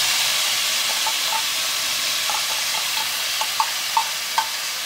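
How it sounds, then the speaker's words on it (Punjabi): Spinach paste sizzles in hot oil with roasted cumin as a tempering for palak paneer in a village kitchen: a steady, bright hiss throughout, with a few light spoon clinks against the pan near the end. "ਤੇ ਪੇਸਟ ਦਾ ਤੜਕਾ ਲਾ ਰਹੇ ਹਾਂ"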